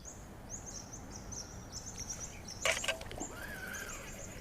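Sparrows chirping in the early morning beside an urban pond, repeated short high chirps in a steady run, fairly distant, with a brief louder rustle midway and low background rumble.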